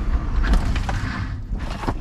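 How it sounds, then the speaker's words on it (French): A Citroen Ami microcar braking hard, with a steady, loud low rumble of road and cabin noise throughout and a brief dip partway through as it slows. "Et le freinage par contre ça freine fort."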